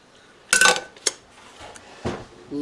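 Dishes and cutlery clink as a plate is served up from a slow-cooker hamburger supper, with a loud burst of clatter, a short clink, and a few softer knocks afterward.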